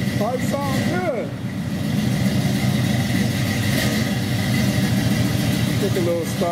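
A 1977 Buick Regal engine runs at a steady idle, a continuous low rumble that fills the whole stretch, with a few brief squeaky sounds near the start and end.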